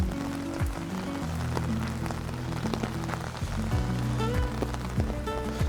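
Steady rain pattering on a street in Seoul, a dense close hiss with scattered drops, while traffic hums and occasional passing sounds mix in beneath.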